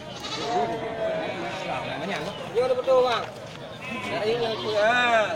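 Female goats bleating at a livestock market, several wavering calls overlapping close by amid crowd noise and people talking.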